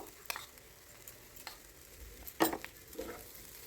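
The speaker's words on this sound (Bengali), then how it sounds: "খুব ভালো করে মশলাটা মিশিয়ে নেব।" A spatula stirs spice mix into a capsicum fry in a pan over very low gas heat. Four or five separate scraping strokes sound close by, one louder than the rest, over a faint background hiss.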